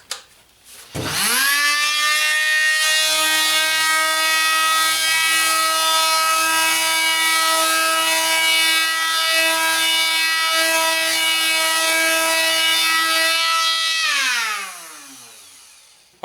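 Fein FMM 350Q Multimaster oscillating tool run without dust extraction: a sharp spin-up into a loud, steady high-pitched buzzing whine with strong harmonic tones, held for about thirteen seconds before winding down, close and with no talk.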